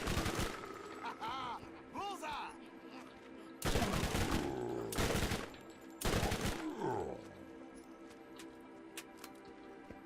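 Gunfire in Borderlands' Zombie Island of Dr. Ned DLC: loud, close bursts of rapid shots, with three heavy volleys dominating the middle, then fading to quieter game ambience.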